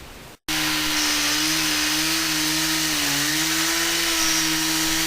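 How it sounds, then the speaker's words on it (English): An Italian-made diamond chainsaw cutting wet marble roars to life after a brief pause and runs steadily at full power, a loud, continuous grinding whine with a slight dip midway. "Working with the saw was loud and wet."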